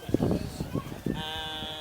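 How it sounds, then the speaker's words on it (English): A sheep gives a few short, close bleats in quick succession, loud and brief, followed by a sustained tonal hum in the background. "this guy is just showing everybody the sheep"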